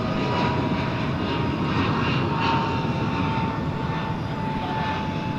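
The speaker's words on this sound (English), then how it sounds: "it looks like the planes will be rotating just as they go past the big windows in Terminal D" Jet airliners rotating on takeoff from DFW Airport past the Terminal D windows, heard as a loud, steady engine roar with a continuous whine, sustained and close, with no talk.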